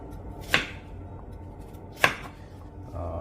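A knife dicing carrot into small cubes on a board gives two sharp, close chops spaced about a second and a half apart, with quiet room tone between them.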